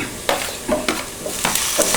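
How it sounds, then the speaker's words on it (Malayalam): Chopped tomato stirred in a hot pan for a chicken and capsicum curry, with a soft continuous sizzle and repeated scraping strokes of a spoon at a steady rhythm, heard close with no talking. "നന്നായി ചൂടായ ശേഷം ഇതിലേക്ക് തക്കാളി ചേർക്കാം"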